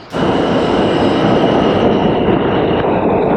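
A subway train pulls into a station in Jackson Heights, Queens, with a loud, steady rumble of wheels and cars that holds close and continuous without a break.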